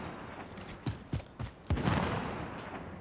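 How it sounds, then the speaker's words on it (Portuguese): Gunfire in Call of Duty: Warzone, four separate sharp shots spaced roughly a third of a second apart, followed by a brief rougher burst of noise, fairly near and moderately loud. "Tem tiro por ali, ó."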